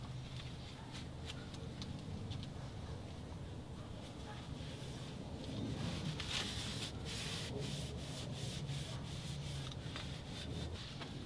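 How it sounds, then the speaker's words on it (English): Rag wiping a brake disc sprayed with brake cleaner on the rear hub of a 2014 Ram 3500 HD dually, a steady close rubbing scrape running throughout with faint workshop noise. "Give it a good wipe."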